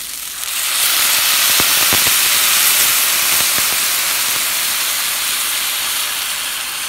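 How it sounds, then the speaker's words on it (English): Broth pours into a hot Le Creuset paella pan of Spanish rice, and a loud, steady sizzling hiss starts right away and carries on for several seconds, with a few sharp crackles near the start and no talking. "And now I'm going to add my broth."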